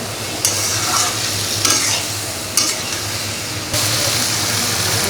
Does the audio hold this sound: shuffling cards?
no